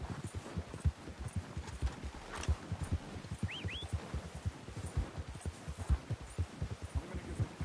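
Horse hooves clip-clopping in the video game Red Dead Redemption 2, a steady rhythmic walking gait of soft repeated thuds over a low hum, with a faint brief whistle-like sound partway through.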